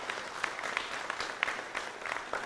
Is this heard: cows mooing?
no